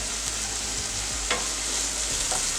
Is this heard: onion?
yes